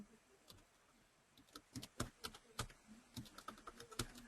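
Computer keyboard typing during an online Java programming class, a quiet, irregular run of light key clicks with short bursts and pauses, fairly faint and close, with no talk over it.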